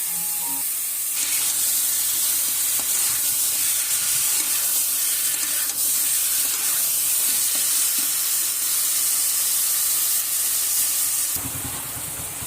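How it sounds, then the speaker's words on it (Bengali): Marinated chicken pieces fry in a pan over medium-high heat for a chicken bhuna, giving a steady, loud sizzle with occasional stirring scrapes throughout, no talking. "মিডিয়াম টু হাই এর মাঝামাঝি রেখে মাংসটাকে হালকা করে ভেজে নিতে হবে।"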